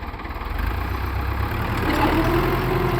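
A tractor engine idles and runs steadily with a plough attached in a field, a loud, continuous low rumble close by with no talking.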